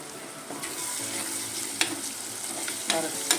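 Onions, green chillies and curry leaves sizzle in a pan for a fish head curry, with a steady frying hiss and a few sharp spoon knocks as they are stirred up close.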